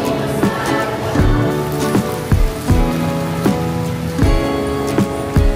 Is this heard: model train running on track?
no